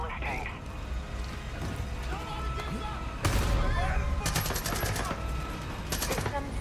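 Gunfire in the shooter Far Cry 5, with sharp bursts of automatic fire standing out under a busy game mix. A voice talks over much of it.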